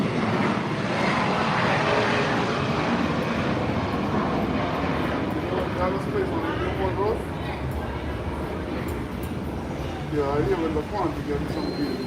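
A Gulfstream G4 jet's engines roar steadily and loudly throughout as it departs, a broad continuous rumble with someone talking faintly underneath.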